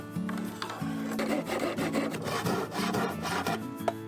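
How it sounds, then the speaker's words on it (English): Wooden planks are cut into a round frame with a hand tool, giving a continuous close rasping and rubbing stroke that repeats rhythmically and loudly throughout. "he cut along the lines, shaping the planks into a round frame"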